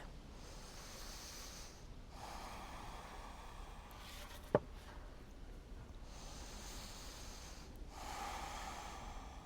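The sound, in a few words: big full breaths during yoga stretch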